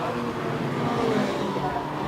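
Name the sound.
Formula Ford race cars racing at Brands Hatch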